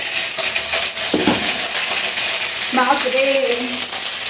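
Potatoes and carrots dropped into hot oil set off loud, continuous crackling and spitting close by, with a brief exclamation from a voice partway through.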